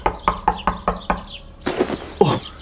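A run of five sharp knocks on a door at an even pace, close and loud, followed by a brief muffled rustling and a last thump.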